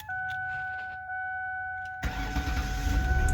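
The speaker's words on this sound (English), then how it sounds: "I'm gonna let you guys hear this guy's start right up" A used car's engine cranks and catches after a couple of seconds of a steady electronic tone, then settles into a rough, close-up idle.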